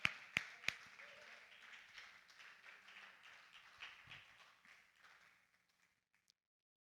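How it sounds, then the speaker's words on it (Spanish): A church congregation gives a sustained round of applause to God, a dense wash of clapping that starts with a few sharp claps, carries steadily, then fades out over the last couple of seconds. "Dale un aplauso a Dios. Dáselo con fuerza."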